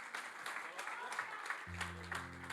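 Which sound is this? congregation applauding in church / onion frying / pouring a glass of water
congregation applauding in church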